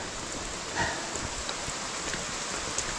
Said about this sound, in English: the rain has not slowed down.